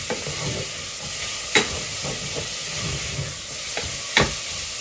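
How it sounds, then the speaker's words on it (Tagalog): Onions fry and sizzle in a pan for afritada, a steady crackling hiss close up with occasional sharp stir clatters and scrapes, no voices. "Ilalagay ko na yung sibuyas."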